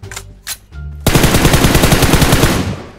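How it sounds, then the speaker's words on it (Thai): Sustained automatic gunfire from a shooter video game, loud and rapid, preceded by a few brief separate bursts and muffled in-game sounds before the continuous volley starts. "ยิงดักโคตรดีเลยกู"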